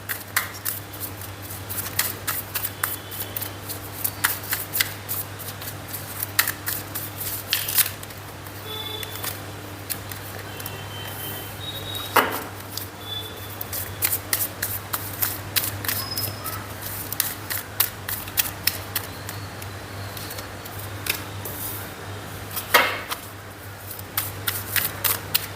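Tarot cards are shuffled over and over by hand, a steady run of crisp riffling and flicking clicks that goes on without pause, close up and with no talking.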